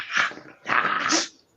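Close by in a room, a dog lets out two short, rough, breathy vocal bursts with a growling edge, fairly loud and separated by a brief pause, with no talk over them.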